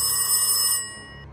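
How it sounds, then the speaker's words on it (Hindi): A telephone rings in a pizza shop late at night, with a bright, loud electronic ring that cuts off abruptly partway through, leaving a low hum. "पिज्जा शॉप का फोन बज उठा।"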